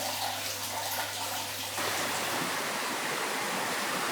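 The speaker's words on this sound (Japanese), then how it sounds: "この川、須川は温泉と山水が混じり、暖かい川となってどんどんと音を立てて流れてるんだって" Warm river of mixed hot-spring and mountain water, the Sukawa, rushing steadily as a broad, continuous roar of flowing water near a waterfall at a snowy onsen town, with no talk.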